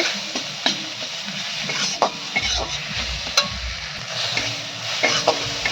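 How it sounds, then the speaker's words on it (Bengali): Cumin and turmeric masala frying in a pan for a vegetarian potol dolma, a close, bright sizzle with rapid scraping strokes and sharp taps of a spatula against the metal. "ভালো করে মশলাটা কষিয়ে নেব"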